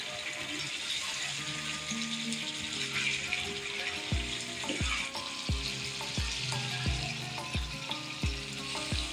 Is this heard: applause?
no